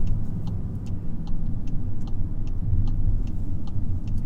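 A VW Golf 8 GTI Clubsport drives along with a steady low engine and exhaust drone, a constant rumbling road noise and faint regular ticking in the cabin, no talk.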